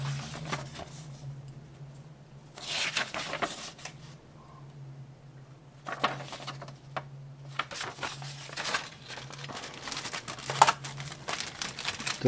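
A small plastic bag holding the plastic parts of a 1/72 scale kit of an Italian 508CM Coloniale light car crinkles up close in intermittent bursts, with quiet gaps between the rustles.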